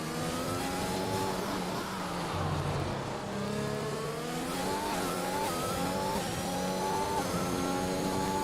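Formula 1 race car engine from the F1 2021 video game on a fast lap around Singapore, a continuous high revving whine rising and falling through gear changes, steady and prominent with no talk.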